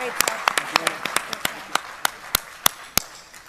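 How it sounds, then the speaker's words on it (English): Scattered applause for a panel at a conference, sparse separate claps standing out sharply over a thin background patter, fading as talk continues underneath. "Can I get a round of applause for this panel?"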